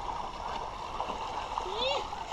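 A bicycle wades across a shallow stream, water splashing and gurgling continuously around it, with people's voices nearby.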